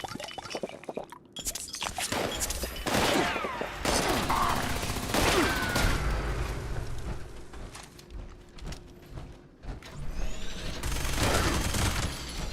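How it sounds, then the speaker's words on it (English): A Gatling-style laser weapon in a video game fires in sustained rapid bursts, loud and dense, with brief pauses between strings of shots and scattered impact noises. "Yo, the Ultra Sight Gatling laser is sick."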